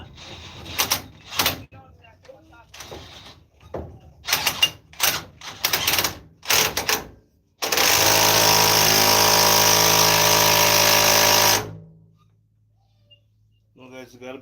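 A power tool tightens bolts on the axle of a 2014 Dodge Ram 1500 in a series of short rattling bursts, then one long steady loud run of about four seconds that stops abruptly, with faint sounds after.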